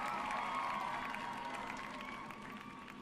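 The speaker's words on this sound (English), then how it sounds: "Thank you for the applause" Applause sound effect on a livestream: a steady wash of crowd clapping and cheering, fairly quiet and sustained, tapering slightly toward the end.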